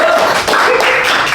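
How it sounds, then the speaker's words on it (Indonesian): Audience applause for a guest at an Indonesian podcast-style event, a dense steady wash of clapping from a room of people, fairly loud and continuous with no gaps. "Tepuk tangan lagi buat Pak Iswar."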